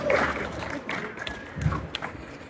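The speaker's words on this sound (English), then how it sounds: "One more round of applause, please" An audience applauds for Chase Richburg at a live stage session during NFR 2025: a steady, fairly faint wash of clapping with scattered sharper claps and thumps, heard at a moderate distance with a murmur of crowd noise underneath.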